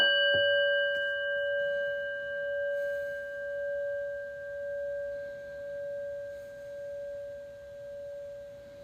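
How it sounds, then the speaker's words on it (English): A prayer bell is struck once near the start, ringing out a clear, sustained metallic tone with several steady overtones that decays slowly and shimmers across the whole span, with no voices. "I'm going to ring a prayer bell."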